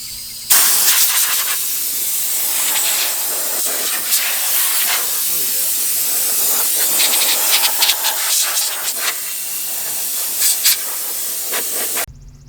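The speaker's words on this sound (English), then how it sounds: "I'm going to take an air chuck and blow the Jeep out" Compressed air hisses hard and steady from an air chuck blowing debris out of a Jeep interior, a loud continuous spray with brief flutters, running nearly twelve seconds before cutting off abruptly.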